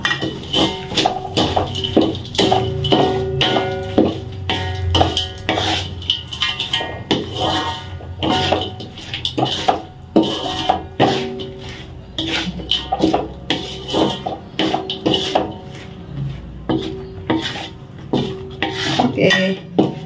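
Sambal with anchovies being stirred in a pan, a busy run of metallic scraping, clanking and rasping of a utensil against the pan, close and steady with brief pauses, no one talking.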